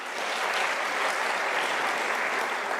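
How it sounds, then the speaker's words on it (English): Sustained applause from an audience at a law career fair, steady dense clapping filling the whole stretch at fairly close range with no pauses. "Give them a round of applause."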